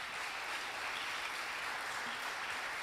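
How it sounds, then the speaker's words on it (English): Church congregation applauding during a harvest service, a steady wash of clapping from many hands, fairly faint and distant, continuous for a few seconds with no speech over it. "Let's give Sergio a round of applause"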